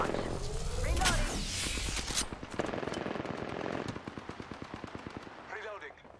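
Rapid automatic gunfire from the Apex Legends battle game, loud, dense bursts of repeated shots through most of the clip, with brief in-game voice lines over the shooting.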